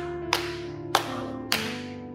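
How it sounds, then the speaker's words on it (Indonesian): Three sharp, evenly spaced hand claps from a church congregation during a sermon, each ringing briefly in a reverberant hall over a faint sustained musical tone. "Tepuk tangan buat Tuhan"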